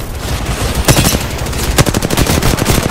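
Rapid bursts of automatic gunfire from the video game Apex Legends, loud and close, cracking in quick uneven volleys with a few heavier shots standing out, with no voices.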